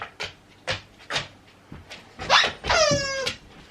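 A puppy whimpers in a series of short, high, close cries spaced about half a second apart, then breaks into a couple of louder yelping barks with a drawn-out whine at the end.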